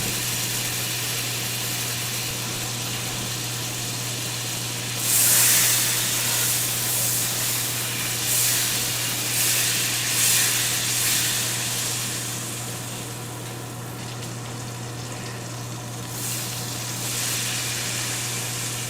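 A stick of salted butter sizzles in hot canola oil, a steady hiss that swells into louder spitting bursts midway and then settles, with a constant low hum underneath.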